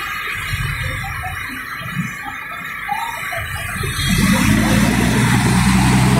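Car engines idle and rumble in slow street traffic on a flooded Taft Avenue in Manila, with the engine noise swelling louder and steadier in the second half.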